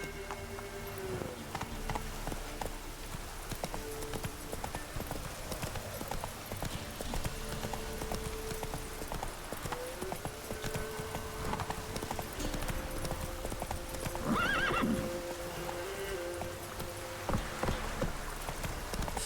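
Hooves clip-clop in a steady galloping rhythm as a horse runs in The Witcher video game, with a short whinny partway through; the hoofbeats stay fairly even and close throughout.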